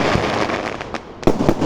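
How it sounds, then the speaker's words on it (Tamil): Festival fireworks bursting both high in the sky and low near the ground, a dense crackling wash punctuated by several sharp, loud explosive bangs, with one especially strong blast near the end. "கீழேயும் வெடிக்குது, மேலேயும் வெடிக்குது,"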